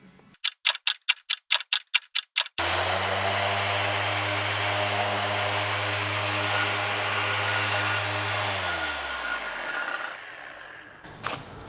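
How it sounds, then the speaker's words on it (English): A random orbital sander smoothing a welded metal part, a steady loud whirring hum with a sustained drone that winds down near the end, preceded by a run of about ten quick rhythmic taps. "now I'm just busy giving it the final touch with the random orbital sander"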